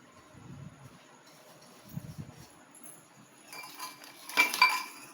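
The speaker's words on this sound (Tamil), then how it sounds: "இப்போ இந்த மாதிரி என்கிட்ட ஒரு பேன் இருக்குது" Cake pan for an eggless vegetarian cake being picked up and set down, a few soft metallic clinks and a brighter clatter near the end in a quiet kitchen.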